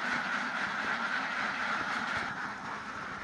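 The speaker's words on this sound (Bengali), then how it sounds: "তো হাঁসে অনেক শব্দ করছে।" A crowd of ducks on a pond farm quacks loudly and continuously, a dense overlapping chatter of nasal calls that holds steady throughout and eases slightly near the end.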